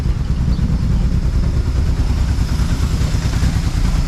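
A car engine with a freshly repaired clutch and a suspect exhaust idles steadily nearby, giving off an even, loud, low rumble with faint clatter throughout.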